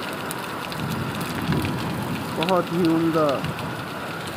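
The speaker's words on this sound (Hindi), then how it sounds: "बहुत ज़बरदस्त बारिश है" Heavy rain in Medina at evening prayer time, heard from indoors as a dense, steady hiss close by, with someone speaking briefly over it.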